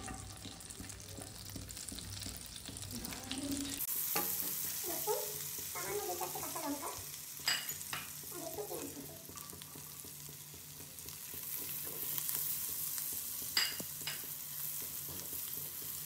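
Chopped garlic sizzles in white oil with a little butter in a pan for veg Manchurian momos. A steady hiss starts abruptly when the garlic goes in, with scattered stirring scrapes over it.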